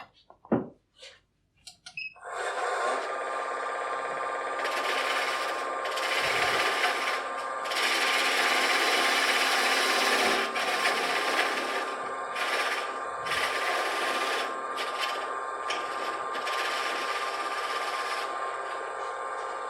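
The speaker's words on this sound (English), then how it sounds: "take a spindle gouge and round off the end of that" Spindle gouge rounding off the end of a wooden piece spinning on a lathe. After a few brief knocks, a continuous bright, hissing scrape runs steadily for a long stretch with small variations as the tool cuts.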